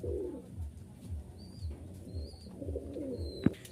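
Breeding pigeons in a loft coo in low, repeated throaty phrases under a steady background hum, with faint higher chirps and a brief sharp knock near the end.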